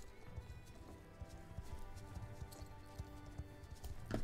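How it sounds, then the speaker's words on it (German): Pony hooves trot in a steady quick rhythm in the horse-riding video game Star Stable, a soft repeating clip-clop heard at moderate distance without talk. "der Trab ist halt dieses typische Ponytraben"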